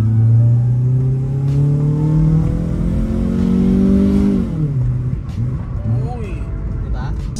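A 1991 Toyota Corolla with a 4AG engine and twin-pipe exhaust revs loudly and close by, its pitch climbing and then falling back with a raspy rumble.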